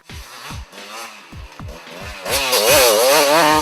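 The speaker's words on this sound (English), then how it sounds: "First rider through the Oakden special test was Jason Davis, riding a Husky TC 250" A Husqvarna TC 250 enduro motorcycle races through a special test, its engine loud and close, revving in short repeated bursts with gear changes before rising into a sustained high-pitched wail.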